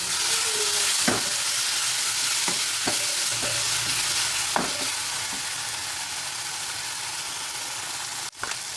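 Crushed garlic and ginger fry in a pan for a Kerala-style fish curry, a steady hissing sizzle punctuated by several sharp spoon clicks and scrapes, close and fairly quiet, with a louder knock near the end.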